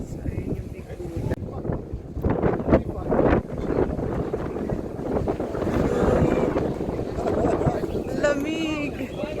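Cold wind gusts across an open mountain viewpoint near the Big Buddha at Ngong Ping, Hong Kong, buffeting the microphone in a steady rumble beneath people talking nearby.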